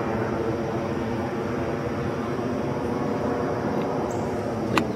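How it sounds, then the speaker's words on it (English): An airplane passing overhead near a stream, a steady broad roaring drone held at an even, moderate level from start to finish, heard alone. "we have planes that pass overhead all the time"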